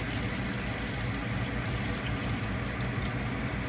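Water pours into a soup pot of browned onion and garlic for a pureed Brussels sprout soup, giving a steady, loud rushing splash that runs unbroken throughout.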